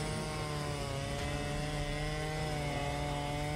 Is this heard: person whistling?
no